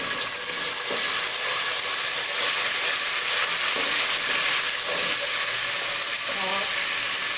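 Ginger garlic paste sizzles steadily in a hot frying pan, a bright continuous hiss with faint stirring scrapes, close and alone.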